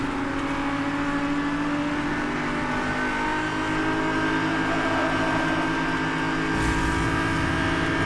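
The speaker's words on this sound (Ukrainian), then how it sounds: "Я на максимальній швидкості їду" A racing car in Need for Speed: Hot Pursuit (2010) roars at top speed with a loud, sustained engine drone and road noise that continue throughout.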